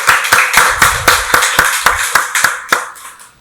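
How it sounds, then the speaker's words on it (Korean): A church congregation at a Sunday worship service claps its hands in a steady, even rhythm, about a dozen loud, sharp claps in unison that fade slightly at the end. "박수로 하나님께 영광 돌리겠습니다."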